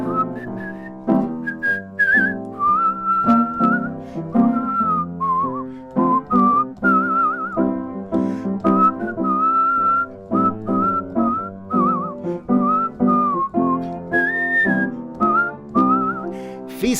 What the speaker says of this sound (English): They'll be whistling.